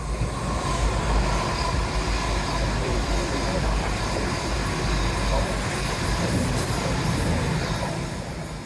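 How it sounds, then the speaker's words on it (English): Train passing along a seafront railway at Teignmouth, a steady loud rumbling roar that holds level throughout and eases slightly at the end, with a voice speaking faintly under it. "Hello, train."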